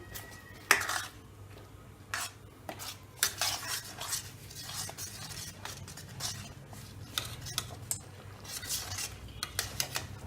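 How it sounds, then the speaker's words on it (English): Broccoli, onion and capsicum stirred into white sauce in a pan, with repeated utensil scrapes and clinks over a steady low hum, close and fairly loud, no talking. "So we'll put our veggies to this: broccoli, onion and capsicum. Mix it well."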